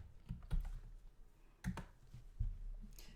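Quiet keystrokes on a computer keyboard while typing a search into a design tool, a few soft clicks in short bursts spread over a few seconds, close and alone with no talk.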